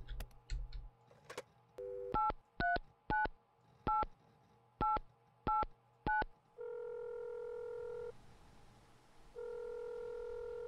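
Phone keypad tones in the Mon Bazou video game, eight evenly spaced beeps followed by long steady tones that are loud and close, with no talk.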